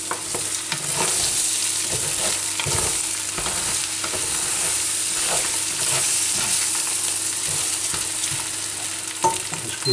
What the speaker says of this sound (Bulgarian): Разбъркваме.